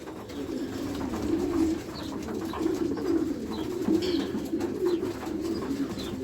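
Several racing pigeons keep up a low, rolling cooing, overlapping calls repeating close by with no one talking.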